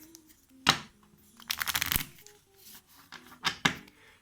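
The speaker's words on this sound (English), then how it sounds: "And then we need to shuffle them up." A deck of playing cards being shuffled nearby for a language-learning card game: a quick snap, then a rapid fluttering riffle, followed by a couple more brief shuffling bursts.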